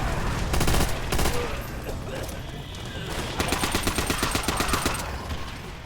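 Rapid automatic gunfire in Call of Duty: World at War, with a dense burst early on and a long stuttering machine-gun volley of evenly spaced shots in the second half, loud and close.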